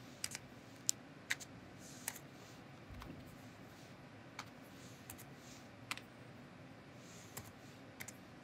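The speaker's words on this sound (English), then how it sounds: "you can type in something like game" Text is typed on a tablet screen in Scratch Jr. Faint, scattered light taps fall at an irregular pace over a steady background hiss, with no talking.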